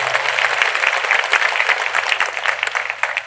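Congregation at a Catholic ordination ceremony claps in a dense, steady burst of applause, close and moderately loud throughout with no voices over it.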